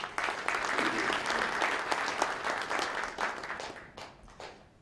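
Audience applause at a Gyeonggi Christian council New Year prayer breakfast, a hall full of people clapping steadily for a few seconds before the sound thins and tapers off.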